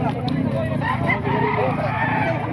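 Rooster crowing amid a noisy poultry market, a few shrill calls mixed into a constant crowd hubbub with people talking nearby.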